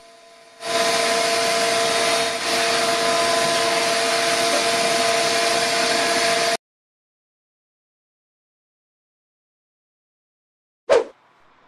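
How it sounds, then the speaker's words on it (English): A vacuum cleaner runs loud and steady on the porch of a 100-year-old house for about six seconds and then cuts off into silence. A single sharp knock follows near the end. "Next, I quickly vacuumed the porch before continuing."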